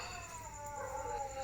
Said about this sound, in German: Die Hunde, die machen gerade eine Katze klar.